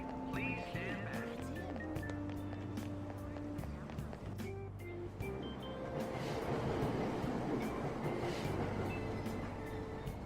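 Subway train departing from a platform bound for Asakusa in the video game Persona 5 Royal, with rumbling wheels and rising motor whine building under game music and a station announcement voice.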